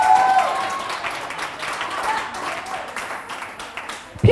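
An audience applauds a speaker at a women's network launch event, a steady spread of clapping throughout with some background voices mixed in, ending abruptly.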